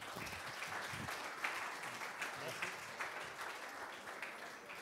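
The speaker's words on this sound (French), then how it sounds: "On peut les applaudir" An audience applauds steadily at the opening session of an HR hackathon in Tours, with continuous, even clapping throughout that sounds fairly distant and soft.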